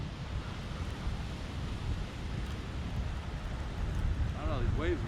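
Ocean waves at a Florida beach, a steady rumbling wash of surf mixed with wind buffeting the microphone, with a voice briefly speaking near the end.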